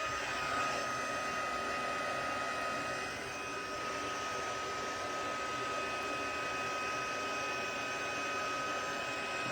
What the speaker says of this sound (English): my heat tool. Just letting it preheat for a moment.